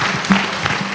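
Audience clapping at a KNUST e-learning week event, a brief burst of steady applause filling the moment with a voice briefly over it.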